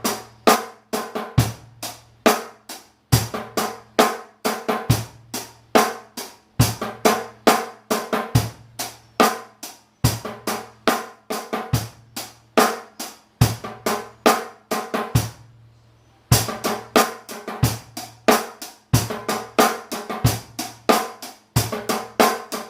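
A drum kit plays a steady groove with ghost notes, crisp hi-hat strokes ticking rapidly between punchy kick and snare hits, looping the same pattern clearly with one brief break midway.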